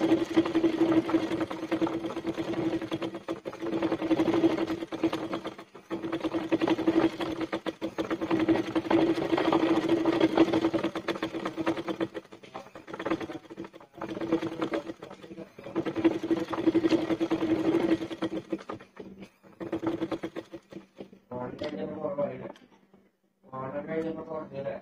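A sewing machine runs steadily, stitching a school dress waist belt, with a close, continuous buzzing whir that pauses briefly, and a voice talks near the end.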